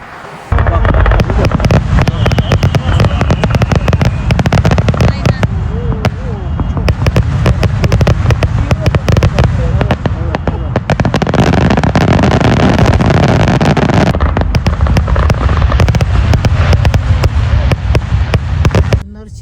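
Loud Fourth of July fireworks in Chicago crack and boom overhead in rapid, dense bursts, continuous for a long stretch with sharp repeated bangs.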